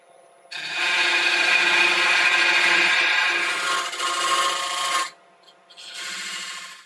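A lathe tool scrapes steadily along a spinning ash blank for a tall hollow-form vase, tapering it with a raspy, continuous rubbing for several seconds. A short pause follows, then a second, briefer pass.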